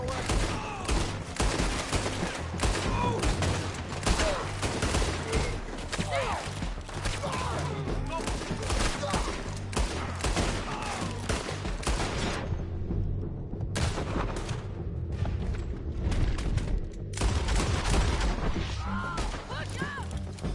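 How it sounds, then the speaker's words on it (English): Relentless battle din from Red Dead Redemption 2: dense gunfire volleys mixed with heavy artillery booms, loud and continuous with a brief thinning midway, under shouted voices. "Artillery!"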